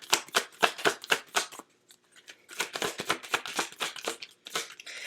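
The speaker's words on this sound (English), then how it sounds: "give me a moment to kind of pull some cards here." Tarot cards shuffled and pulled in quick, crisp riffling bursts, a pause, then another run of brisk card flutters close up with no talk.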